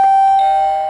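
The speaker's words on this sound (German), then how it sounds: "Die Klingel funktioniert." A Playmobil toy doorbell rings with a single bright, sustained electronic chime that is loud and close, fading slightly across the whole second with no talk over it.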